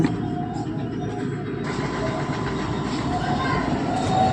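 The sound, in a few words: tractor engine running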